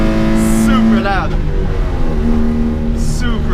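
Small 1980 Mitsubishi Minica kei car engine revving hard to high RPM with an exhaust leak, pitch climbing then dropping at a gear shift into third and rising again, loud and close throughout.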